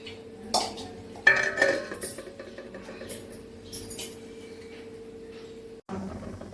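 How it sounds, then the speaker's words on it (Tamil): A metal lid clanks onto a pot of fish curry with a few sharp clinks, followed by quieter rattles over a steady low hum. "இப்போ மூடி போட்டு நல்லா கொதிக்க வைக்கலாங்க மூடி போடுவோம்"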